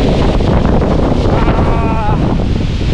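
Steady, loud wind buffets the microphone throughout on open farmland, a constant rushing roar with a faint whistling tone rising and falling in the middle.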